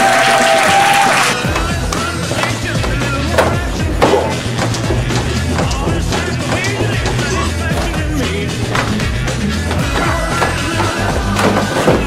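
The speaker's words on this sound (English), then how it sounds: "So, come here, big round of applause for Grandmaster Jim Brassard!" Audience applause for a karate grandmaster at a Shaolin Kempo Karate session, a steady, dense wash of clapping that fills the room throughout, with scattered sharper claps and a faint tone near the start.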